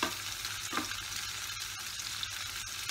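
Onions frying in a pan for a vegetable millet (bajra) pulao, a steady crackling sizzle with scattered pops and faint stirring, close and continuous with no talk.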